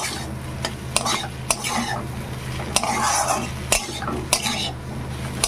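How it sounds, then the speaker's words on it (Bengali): Okra and egg being stirred in a pan, with repeated clinks of a spatula against the metal over a steady sizzle, close and fairly loud with no talking. "সব ঢেলগুলো রেখে ডিমে মিশে এইভাবে নাড়াচাড়া করে নেব"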